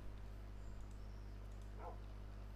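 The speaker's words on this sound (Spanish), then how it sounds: "Está jodido el perrito, ¿vale?" An injured dog in the video game Minecraft gives a short, faint whimper near the end, over a steady low background hum with no talking.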